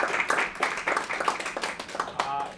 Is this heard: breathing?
no